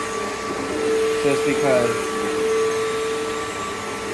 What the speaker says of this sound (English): I usually vacuum it in different directions